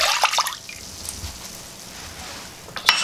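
Milk is poured into a pot, making a short liquid splash and trickle up close that settles into a soft, steady flow.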